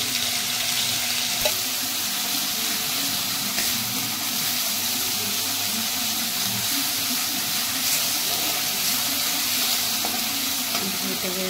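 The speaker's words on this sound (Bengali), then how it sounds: "আমি ওই মাছ ভাজার তেলেই আদা, পেঁয়াজ, কাঁচা লঙ্কা এই তেলে দিয়েই ফ্রাই করে নিচ্ছি" Ginger, onion and green chili frying in leftover fish-frying oil for a prawn dish, a steady close sizzle with a faint hiss and occasional clinks, continuing without a break.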